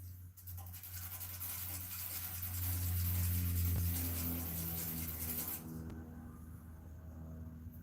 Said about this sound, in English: Take this 600 grit and just kind of clean up these edges here.